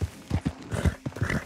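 Hooves of a female horse clip-clop at a walk in Red Dead Redemption 2, a steady, close, uneven rhythm of about eight dull thuds with no talk.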